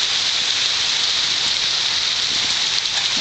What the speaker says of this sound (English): Like I said, it is now raining.